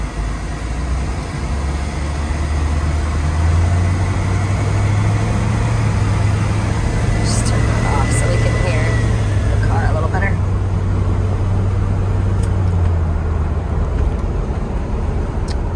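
A 1969 Oldsmobile Cutlass with a 3-speed automatic runs at a steady low rumble throughout, close and loud, with a brief rise in revs midway and some talk over it.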